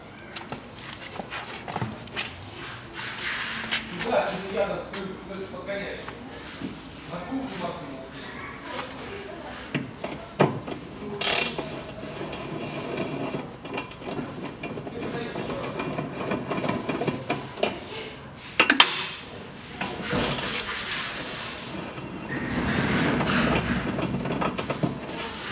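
Metallic clicking and clanking come from a long socket extension unscrewing the steering linkage nuts on a 2005 Chevrolet Niva 4x4. The irregular tool sounds sit under someone talking throughout.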